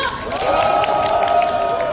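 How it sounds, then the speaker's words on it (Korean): A crowd of adults at a family-month musical gala show in a shopping mall cheers and applauds together, a loud, sustained wash of shouting and clapping with no pauses. "우리 어른분들 박수와 함성 주세요."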